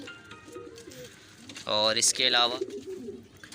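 Pigeons cooing in a breeding loft holding a golden male paired with a female, low throaty coos rising clearly in the middle over a faint murmur of speech, with soft cooing before and after.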